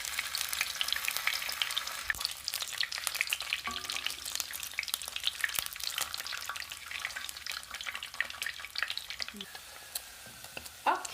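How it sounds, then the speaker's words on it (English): Sausage fries alone in a pan with a continuous crackling sizzle, quiet and close, with occasional stirring clinks and small pops over about eleven seconds. "But I want to fry sausage alone."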